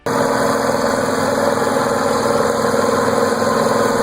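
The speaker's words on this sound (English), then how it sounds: "the 1568 also employed the DV550 V8 engine" A 1568 tractor's DV550 V8 engine idles steadily and loud, a continuous even drone with a fixed hum and faint higher whine throughout, no voices.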